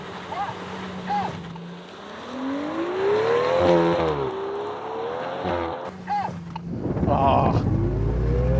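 A V12 Aston Martin and an MG Cyberster launch in a drag race. Engine revs climb and fall in surging pulls over heavy wind rush, with a louder build near the end.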